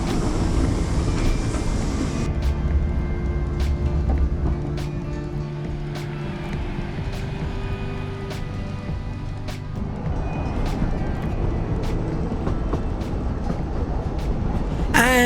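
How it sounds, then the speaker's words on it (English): A Welsh Highland Railway locomotive runs along the narrow-gauge line near Caernarfon, a steady loud rumble with a layer of mechanical hum and regular rail clicks heard throughout, no voices. "As the loco runs around again"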